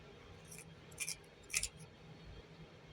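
A makeup pencil turns in a small handheld sharpener, giving three faint, short scraping bursts against quiet background hiss.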